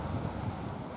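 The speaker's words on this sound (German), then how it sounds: "Manchmal heftiger, böiger Wind von Nordwest" Strong, gusty northwest wind at Tolo, Greece, at sunset buffets the microphone in a brief, rumbling gust, with a faint wash of water underneath.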